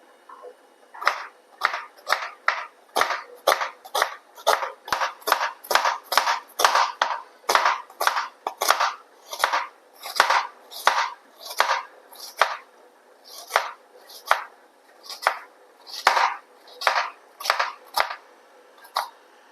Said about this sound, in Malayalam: അപ്പോൾ നമ്മൾ സവോളയും തക്കാളിയൊക്കെ അരിഞ്ഞെടുത്തു